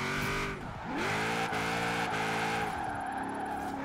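Cadillac XTS limo drifting in the Forza Horizon 4 video game, its engine droning steadily while the tyres squeal in long wavering wails that dip and rise with each slide, loud and continuous throughout.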